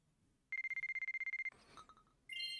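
A phone rings in the visual novel game White Album 2: about a second of rapid, evenly pulsed electronic ringing, loud and close, followed by softer game sound effects and a bright chime.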